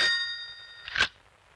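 An old telephone's bell gives a single ring that fades out, followed by a short metallic clunk, close and clear with no voices over it.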